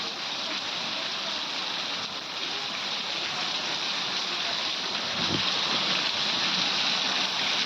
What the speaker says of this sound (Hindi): जिले में कई जगह बारिश हुई।